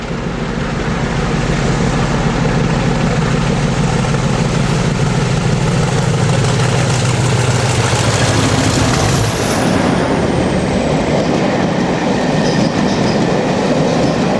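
British diesel locomotive 37411, newly painted, passes in the Rhymney Valley on a farewell diesel haulage day, its loud engine throb giving way to rolling wheel clatter and a rising squeal as it goes by close.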